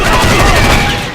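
Dense, continuous gunfire from the video game Red Steel 2 fills the whole moment, a loud rapid barrage of shots without a break.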